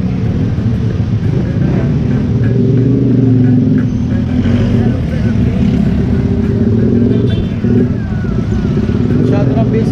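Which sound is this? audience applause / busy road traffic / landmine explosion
busy road traffic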